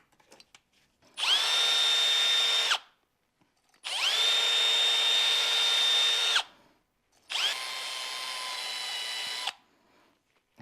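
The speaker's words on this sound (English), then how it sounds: "I also want to run the wire wheel in here" A power-driven wire wheel whirs against car engine parts on a Prelude, three sustained high-pitched spinning bursts of a couple of seconds each separated by short quiet gaps, close and alone.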